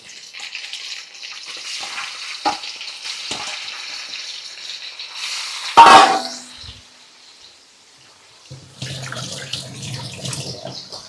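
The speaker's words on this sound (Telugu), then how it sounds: "ఇందులో చికెన్ కూడా యాడ్ చేసుకోవాలి" Chicken pieces hit biryani masala frying with bay leaf, star anise, cloves and shahi jeera, bursting into a sharp, loud sizzle midway amid quieter intermittent hissing, with another rough sizzle near the end.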